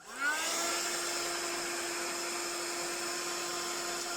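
A heat tool warming embossing powder gives a steady, close whining blow with a constant tonal hum, starting up quickly and holding evenly throughout.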